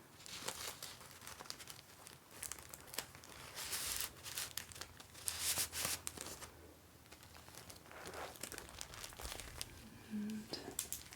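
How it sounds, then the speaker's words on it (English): Small plain envelopes and plastic are handled close up, giving soft, continuous crinkling and rustling with occasional sharper crackles, quiet and intimate in a calm indoor setting. "they're just some small plain envelopes"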